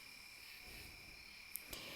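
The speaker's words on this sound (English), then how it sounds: "You hear crickets." Crickets chirp at night out in the countryside, a steady, even trill that runs unbroken throughout at a soft, moderate level, with a couple of brief faint clicks near the end.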